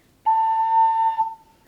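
A single ocarina note held steady with just the right breath, a clear pure whistle-like tone that sustains evenly for about a second, then tails off softly into quiet.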